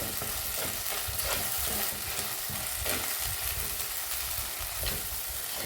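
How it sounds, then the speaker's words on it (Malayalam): Ground masala paste fries in oil for kilimeen fish curry, giving a loud, dense, unbroken sizzle with a crackling texture close to the pan for the whole stretch, without any talk. "ഇനി നമുക്ക് അരപ്പ് ചേർത്ത് കൊടുക്കാം ഈ അരപ്പ് ഈ എണ്ണയിൽ നന്നായിട്ട് മൂത്ത് വരട്ടെ"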